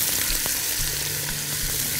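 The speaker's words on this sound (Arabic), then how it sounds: "والحله عندي سخنه جدا، يعني ايه، هنزل البصل الاول، شويه زيت" Onions frying in hot oil in a pot give a steady, close sizzle with soft crackles and an occasional stir, and no talking.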